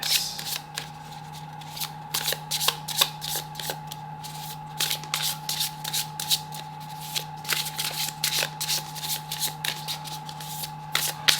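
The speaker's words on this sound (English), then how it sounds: "Gonna start your shuffle here." Tarot cards riffled and shuffled repeatedly in quick bursts, close by, over a steady hum from an air conditioner.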